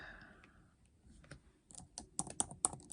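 Quick bursts of keystrokes clatter on a computer keyboard while a greeting card message is typed, starting sparse and building into a denser run of close, crisp clicks with no talking.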